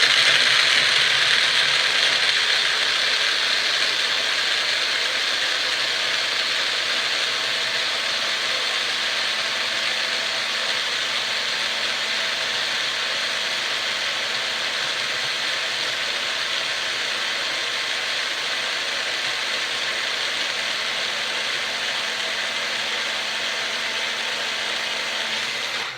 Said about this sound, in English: all I'm doing is putting this right on my magic bullet